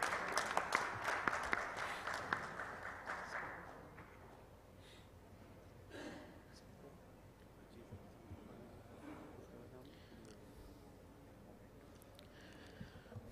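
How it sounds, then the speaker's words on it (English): Applause from a conference audience at a live-streamed professional session, fairly faint and distant, strongest in the first few seconds then dying away into quiet room noise with scattered faint sounds. "I would request everyone to please give a round of applause."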